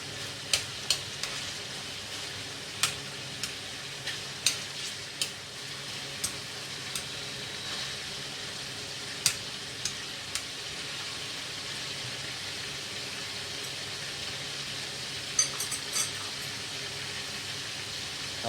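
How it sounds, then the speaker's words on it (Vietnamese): Duck pieces frying in a pan for a fish-sauce dish, a steady close sizzle with a string of sharp clicks and taps from stirring, most of them in the first half, and no talking. "Rồi trong quá trình nó vịt mình chiên nha"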